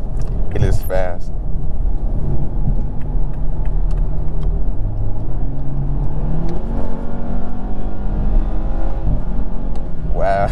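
A 2021 Toyota Supra 2.0 accelerates hard, its engine note climbing steadily through the gears from inside the cabin, with a brief voice at the start and end.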